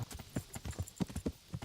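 Horse hooves in Kingdom Come clip-clopping at a steady, brisk walking rhythm, with distinct repeated thuds close by and no talking.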